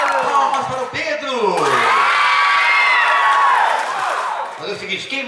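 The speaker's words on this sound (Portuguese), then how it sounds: "Palmas para o Pedro." Loud cheering and whooping burst from the audience at Circo Olímpico in Pingo D'água, Minas Gerais, backing a contestant in an ugliest-man-in-town contest. Shrill voices rise and hold near the mic, with scattered applause beneath.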